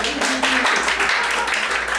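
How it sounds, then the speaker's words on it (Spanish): Workshop audience applauding during a supervision training session at Río Secreto, a dense, steady wash of clapping from a room full of people, moderately loud and continuous, with some voices mixed in. "¡Un aplauso, por favor!"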